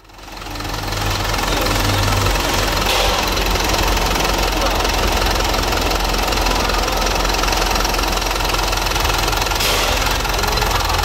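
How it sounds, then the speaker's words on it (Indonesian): A Hino Dutro 136 HDL Euro 4 light truck's diesel engine idles close by, a loud, steady knocking rumble that runs the whole time with no talk over it. "Itu tadi suara engine dari Hino Dutro dan suara engine dari Isuzu."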